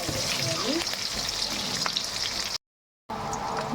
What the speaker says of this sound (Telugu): తర్వాత ఎర్రగడ్డలు పచ్చిమిరపకాయలు వేసి బాగా ఫ్రై చేసుకోవాలి.